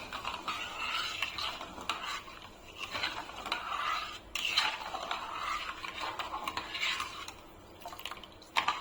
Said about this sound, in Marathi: दुधाला कंटिन्यू असं ढवळत राहायचंय